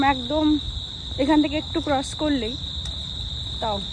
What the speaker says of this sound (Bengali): আশেপাশে নিশ্চয়ই শুনতেই পাচ্ছ শুধু ঝিঝি পোকার